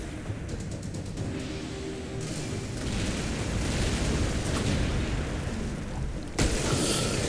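Weapons fire and explosions in the strategy video game Gladius: Relics of War, rapid crackling shots at the start giving way to a sustained rumbling barrage of booms, with a sharp blast near the end.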